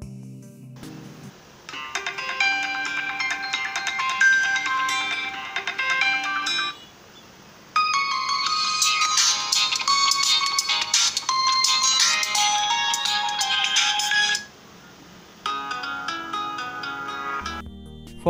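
A loud electronic ringtone plays a bright, repeating chiming melody from a Qmobile Noir J5 phone speaker, pausing briefly twice before starting again.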